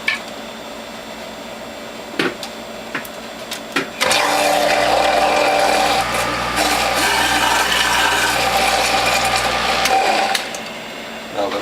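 A WHF juicer presses cantaloupe pulp that is fed back in with a small cup. A few clunks and clicks come first, then a loud, steady motor whir with grinding runs for several seconds before it stops.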